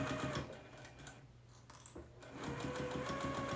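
A sewing machine running in quick rhythmic bursts as it back-stitches to secure a quilt seam, close and clear, pausing briefly mid-way before stitching on again.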